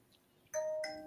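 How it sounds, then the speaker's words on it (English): A doorbell rings twice in quick succession, two bright chimes sounding clearly and close in an otherwise quiet room. "How'd you get the doorbell to ring at the same time?"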